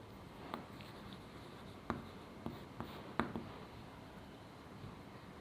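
Math being written out by hand on paper or a board, faint scratchy pen strokes punctuated by a few sharper taps, quiet and close with no talking.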